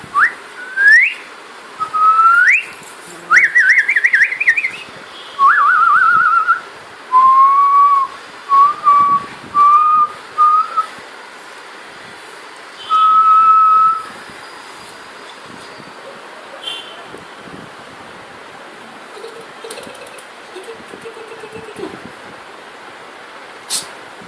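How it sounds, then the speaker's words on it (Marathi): A child blows a whistle indoors in a series of shrill toots, some short and some held, loud and close, with bursts clustered early and then a quieter stretch of room noise. "काय चाललंय आदिशचं शिट्टी"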